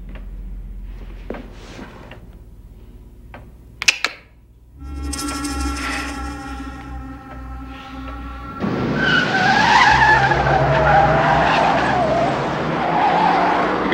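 Cars race and skid through a chase. Sharp knocks come first, then steady engine drones, then a loud, sustained tire squeal that builds near the end, with no voices.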